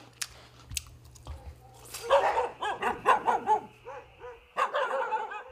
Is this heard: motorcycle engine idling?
no